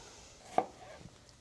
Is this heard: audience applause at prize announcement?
no